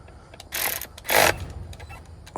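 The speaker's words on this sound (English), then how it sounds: "walk back here and tighten these up with the electric ratchet" Electric ratchet tightening bolts on billet LS coil covers of an airboat engine: two short mechanical whirring, clicking bursts, close and fairly loud, with quiet between them.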